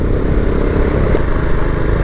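A Husqvarna Vitpilen 701 motorcycle engine drones steadily while riding, a loud, close, low rumble overlaid with broadband wind rush and no break in its tone.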